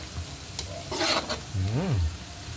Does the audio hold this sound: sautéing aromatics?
yes